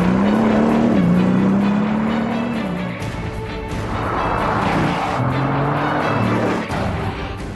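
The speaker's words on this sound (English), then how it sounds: "you can be sure to hear the unique sound of a Veyron before you see it" A Bugatti Veyron 16-cylinder sports car engine roars loud and close, its pitch rising and falling through gear changes as it accelerates, with a steady drone and tire noise under it.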